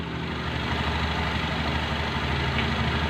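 Motorcycle engine idling steadily during a fuel pump test, a constant close drone with a low rumble and no change in revs.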